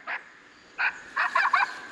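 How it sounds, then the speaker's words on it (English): A Foxpro Patriot electronic game call plays a female coyote call: short, bark-like yips arrive in a few separate bursts with gaps between them, ending in a quick cluster of calls, moderately faint and with no other sound. "Here's a female coyote."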